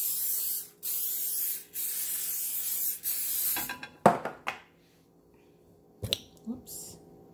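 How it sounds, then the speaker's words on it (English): Several bursts of cooking spray hiss onto a plate in steady pulses, close and fairly loud, followed by a few short clatters and handling sounds. "You want to spray this with any kind of cooking spray that you may have."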